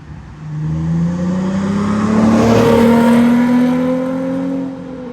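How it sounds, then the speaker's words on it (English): A Nissan 350Z with an aftermarket exhaust revs loudly and steadily, its tone climbing gradually over several seconds before easing off, close to the microphone with no talking. "Not only does he have like a okay sounding 350Z"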